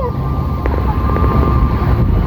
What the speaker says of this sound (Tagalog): Ayun, lakas ang hangin, o.